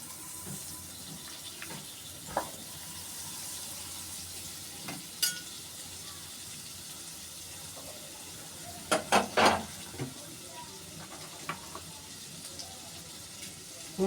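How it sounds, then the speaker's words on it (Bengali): Butter sizzles softly in a hot kadai, a faint steady crackle punctuated by occasional sharp clinks and scrapes of a utensil against the pan. "কড়াতে বাটার দিয়ে দেবো।"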